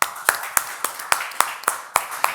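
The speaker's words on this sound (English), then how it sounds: "I think this deserves a round of applause" An audience claps at a steady, moderate pace, with about nine distinct, fairly close hand claps spread evenly, sounding like a small group rather than a large crowd.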